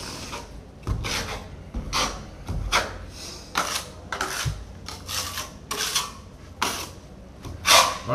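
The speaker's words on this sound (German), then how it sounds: "Also ich benutze eine 6 mm Zahntraufel und dann am Ende werden wir so um die 4-5 mm Spackel haben." Knauf Aquapanel filler is spread with a 6 mm notched trowel over embedded mesh on drywall joints, giving repeated close scraping, rasping strokes of uneven length with brief pauses between them and no voices.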